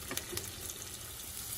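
Bitter melon and corned beef cook in a pan, with a soft, steady sizzle and faint stirring scrapes near the start, quiet and close with no talking.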